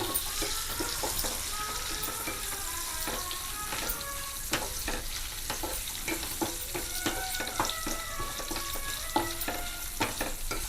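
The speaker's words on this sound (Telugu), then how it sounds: "అలా ద్వారగా వేపేసుకోండి అయిపోయింది ఇప్పుడు అందులోకి తిరిగేసేద్దాం పోపు ఇంగువ" A pongal tempering of popu and asafoetida crackles and sizzles in a hot pan, with steady frying hiss broken by sharp popping bursts and occasional stirring scrapes throughout.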